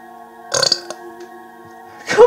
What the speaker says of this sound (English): Come on, don't burp right now.